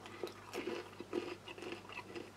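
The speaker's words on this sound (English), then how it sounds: "still, tasty, crispy, crunchy, good quality nuts" Crunchy nuts from a Norwegian army arctic field ration are chewed close to the mic, a quiet run of crisp, irregular bites and crunches.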